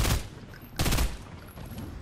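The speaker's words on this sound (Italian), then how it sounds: "Ma che tu spari?" Gunfire in the video game Fortnite: two bursts of rapid shots, loud and booming, the second burst stronger, with a dense rattling bed of fire between them and no talk.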